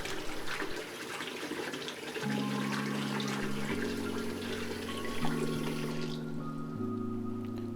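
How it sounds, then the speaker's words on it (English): Water being poured back into a Fluval Roma 200 aquarium during a clean of an All Pond Solutions 1400EF filter, a steady close rush of flowing water over a low hum that steps up and down in pitch. "So I'm just putting a bit of water back in the tank."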